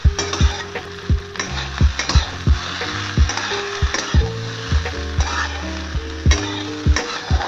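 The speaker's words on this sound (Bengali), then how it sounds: "বাঁধাকপির পাতাটা দিয়েও কিছুক্ষণ ভেজে নেব।" Cabbage leaves and flat beans frying in a pan, a bright sizzle punctuated by sharp, rhythmic spatula knocks against the pan, loud and close with no talking.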